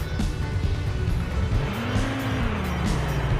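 In the Car Parking Multiplayer video game, a car engine drones steadily as it climbs a mountain road, with rising revs and a faint tire squeal, loud and continuous with no voices.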